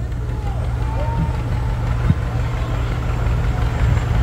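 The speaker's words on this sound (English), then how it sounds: "Lighthouse Farm with their 1959 John Deere 630 with all their friends and family." A 1959 John Deere 630 tractor rolling in a lighted tractor parade in Centralia, Washington, giving a low, steady engine rumble at moderate distance, with a faint outdoor background and a brief knock partway through.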